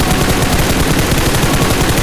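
Dense, rapid gunfire in PUBG Mobile crackles without pause, loud and continuous like sustained automatic shooting, with no voices.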